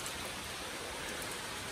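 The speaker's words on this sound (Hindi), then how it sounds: "तो खैर बारिश बहुत ज़्यादा है" Dense, steady rain pours down continuously, a broad even roar of falling water with no breaks, no voices, and no other sounds.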